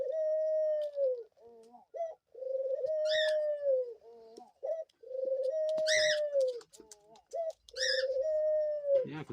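A pet dove coos repeatedly close up, steady rounded calls in a rolling rhythm broken by a few brighter chirps, with no voices over it.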